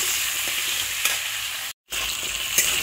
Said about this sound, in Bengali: আলুগুলোকে একটু ভাজা ভাজা করে নিচ্ছি।